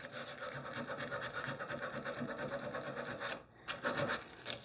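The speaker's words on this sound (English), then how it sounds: "use your sandpaper" Sandpaper rubbing back and forth over the wooden legs of a china cabinet being refinished, a steady close rasping scrape that pauses briefly near the end before resuming, with no talking.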